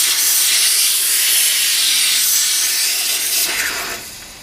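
A steam cleaner hisses loudly and continuously over a Bernina/Oliva CL46 sewing machine under restoration, a close, steady spray that fades slightly toward the end, with no voices.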